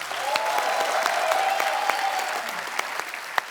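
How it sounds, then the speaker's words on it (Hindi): Studio audience at a Hindi TV comedy show bursts into steady, full applause that holds for a few seconds, dense and even with a few sharper claps standing out near the end. "जोरदार तालियां"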